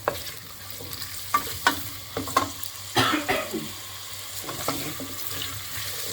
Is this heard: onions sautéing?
yes